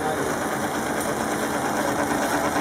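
A Pac-Man gear train machine running at about 400 RPM gives a steady, fast mechanical whir with a high rattling buzz, even and continuous throughout.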